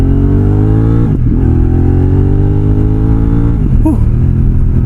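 A Kove X-Cape 1200 adventure motorcycle accelerates hard through city streets, its engine rising in pitch through two gear changes with brief dips, loud and close throughout.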